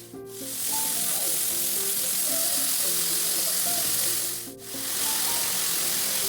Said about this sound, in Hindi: सब्जी को तड़का मैंने लगा दिया है